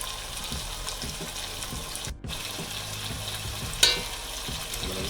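Saltfish and vegetables fry in a hot pan with a steady, bright sizzle, punctuated by soft scrapes and clinks of stirring, loud and close with no voices.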